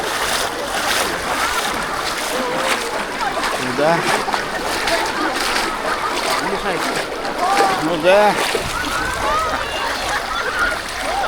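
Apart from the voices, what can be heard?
splashing while wading into muddy river water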